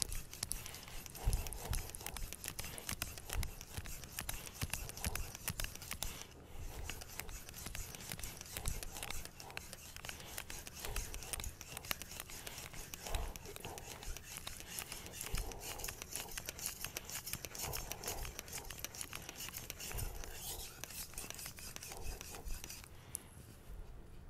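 A knife edge of R2/SG2 steel scraping back and forth along a 1000-grit whetstone, a steady continuous rasping stroke after stroke, close and fairly loud throughout with no pauses.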